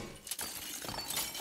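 A glass holy water bottle shatters in a film scene, a brief bright crash followed by tinkling fragments over faint background sound.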